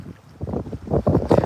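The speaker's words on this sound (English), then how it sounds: "it's so windy. I just keep randomly getting like these random gusts." Gusty wind buffets a microphone outdoors beside a weedy waterside bank, coming as rough, rumbling low bursts that swell louder toward the end, with no talking.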